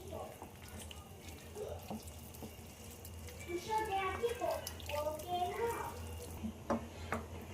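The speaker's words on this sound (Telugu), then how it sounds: "వాటర్ అయితే వేసుకున్నాను" Water from a tap splashes into a pot of chicken leg and jackfruit seed curry, a soft running pour with light stirring and clinks, close and moderately quiet, with faint background noise.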